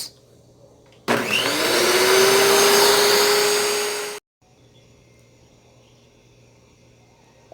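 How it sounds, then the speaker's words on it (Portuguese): An electric stand mixer beating four eggs at maximum speed starts abruptly with a loud, steady high whine that rises in pitch as it spins up, runs for about three seconds, then cuts off into near silence. "Numa batedeira, acrescente somente os 4 ovos e deixe bater em velocidade máxima por cerca de 4 minutos."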